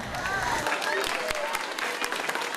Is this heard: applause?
yes